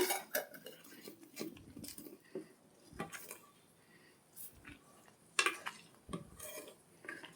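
A spoon scrapes and stirs paneer curry in a cooking pot, with irregular clinks and scuffs against the metal and occasional louder knocks, close and fairly quiet, with no talking.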